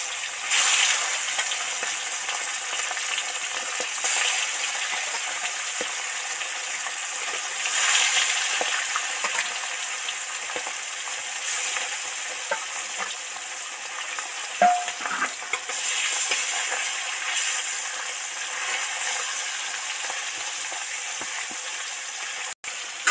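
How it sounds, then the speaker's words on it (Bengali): Bata fish deep-frying in hot oil with turmeric powder, a steady close sizzle with bursts of spattering and occasional stirring, no talking. "এবার একটা একটা মাছ তেলের মধ্যে দিয়ে দেব।"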